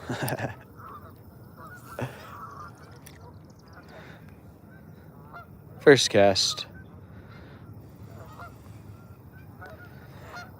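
Geese honk outdoors in a short loud burst of harsh, repeated calls, with fainter honks scattered before it and someone speaking briefly nearby.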